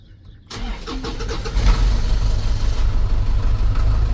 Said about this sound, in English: I want to get the landscape truck started up because it hasn't been started up now in, I think, about a week.